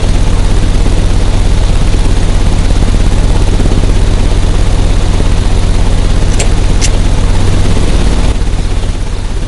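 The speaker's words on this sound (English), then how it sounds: "The engine has started." An engine runs at a seed house in the video game Sherlock Holmes: Crimes & Punishments, a loud, steady mechanical drone that continues unchanged, with no speech.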